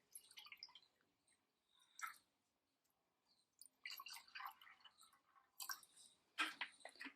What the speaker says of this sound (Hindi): करीब 150 ml के आसपास पानी डालता हूं